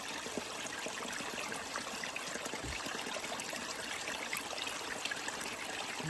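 Creek water on the Appalachian Trail runs and trickles into a container in a steady, close wash of burbling flow that holds constant for several seconds without any talking.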